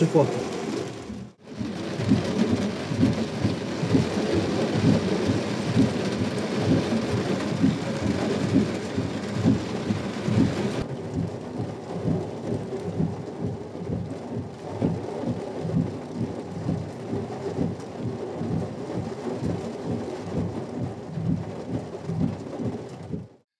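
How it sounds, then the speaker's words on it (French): Heavy rain roars steadily for the whole stretch during a thunderstorm with gusting wind in the Beauce, with a deep, rolling rumble like thunder running beneath it; the downpour eases slightly toward the end. "avec ces fortes pluies qui arrivaient, cet orage, surtout ces rafales de vent"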